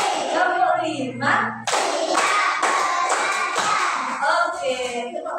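Children in a classroom clap hands in counted bursts between a teacher's chanted counting; clusters of sharp claps alternate with spoken cues, close and fairly loud.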